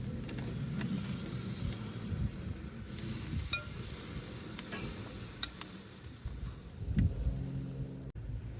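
Shrimp sizzling on a hot oiled grill alongside radicchio, a steady close frying hiss with low crackling throughout, a few brief clicks, and a sharper flare of sizzle near the end before a sudden cut.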